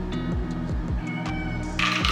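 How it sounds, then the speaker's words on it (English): Kitten meows repeatedly, close and loud, in a rhythmic run of short cries, with a brief clatter near the end. "Here comes the kitten again."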